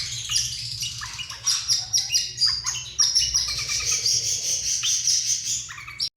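Pet birds in a shop in Islamabad, Pakistan, chirping and tweeting in quick overlapping bursts, close and fairly loud, with a steady low hum underneath and no talk.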